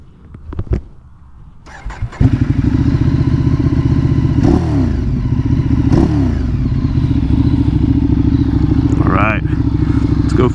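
A Ducati Streetfighter motorcycle starts up: a few quiet clicks and a short cranking whir, then the engine catches and settles into a loud, steady, throbbing idle with occasional revs, close by.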